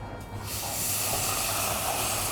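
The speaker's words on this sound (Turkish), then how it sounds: "artık suyunu yavaş yavaş ekliyorum" Water is slowly poured onto hot semolina halva, setting off a loud, dense hiss that starts abruptly and keeps building into a sustained, steamy roar of bubbling up close.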